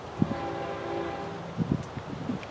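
FEC105, a priority freight train, approaches a rail junction on a cloudy evening. A distant low rumble carries a faint sustained horn tone, followed by a few soft knocks against outdoor background noise.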